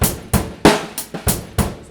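Drum set groove built on a steady kick and snare pattern, with soft ghost notes on the snare filling the gaps; six strong hits land roughly every third of a second, close and punchy, with quieter strokes between them.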